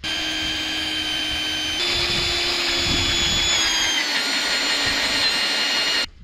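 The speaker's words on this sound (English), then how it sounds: "I'm just destroying a bunch of brand new drill bits here" Drill bits grind against hard metal on a Soviet T-170 bulldozer, a steady, loud, high-pitched whine and scrape that holds for about six seconds before cutting off abruptly.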